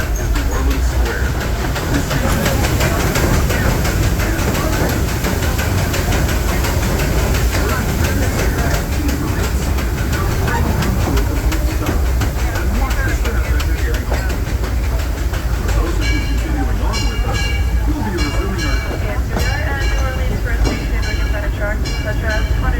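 The Disneyland Railroad train rolls along its rails, a loud continuous rumble with clacking and rattling carriage noise throughout, overlaid by an amplified onboard announcement voice speaking over the ride.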